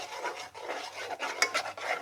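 Cheese being stirred into pasta sauce in a pan, a soft rhythmic scraping and squelching repeated several times, close and fairly quiet with no talk.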